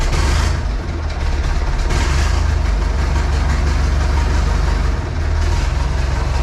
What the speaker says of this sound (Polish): pochodzi na wolnych obrotach